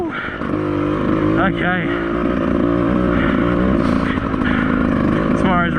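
A Beta 200RR two-stroke dirt bike engine runs steadily close by, with brief rising revs, while someone talks over it.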